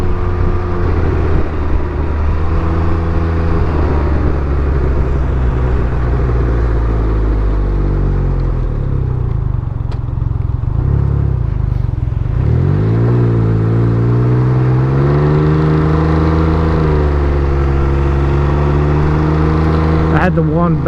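Can-Am Ryker three-wheeled motorcycle with one exhaust baffle removed, its engine droning loud and close, dipping and then climbing through rising revs in long sweeping swells.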